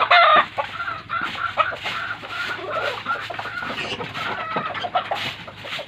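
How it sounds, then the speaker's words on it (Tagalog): Hens cluck busily nearby in overlapping bursts, a lively farmyard chatter of short clucks and calls with no talking. "ito yung inahin natin, malaki na rin"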